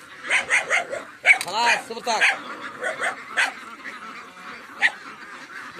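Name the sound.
dogs barking on a farm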